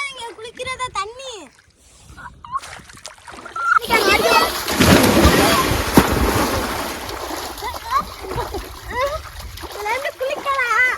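People bathing and swimming in an outdoor natural water spot splash loudly and repeatedly, with choppy sloshing bursts and excited voices talking and calling out throughout.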